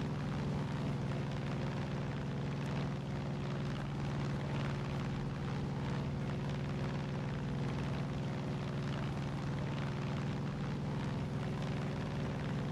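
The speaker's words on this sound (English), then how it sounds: "single engine propeller plane" Single-engine propeller plane flying in the video game Far Cry 5, a steady droning engine hum with a constant low tone, loud and unbroken throughout.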